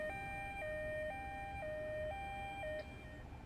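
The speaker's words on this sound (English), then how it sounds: "with the way I'm driving this ambulance" A two-tone ambulance siren in the Ambulance Simulator video game alternates steadily between high and low notes about every half second, loud and close, then drops away near the end.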